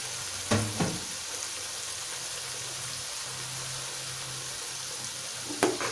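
Blended spices sizzle steadily in a hot pan for a fish gulai made with patin, with a few brief scraping stir strokes near the start and end, close and fairly quiet, with no talk.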